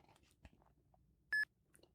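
A barcode scanner app on an Android phone gives a single short, clear electronic beep partway through, standing out loudly against a quiet background with faint handling noises.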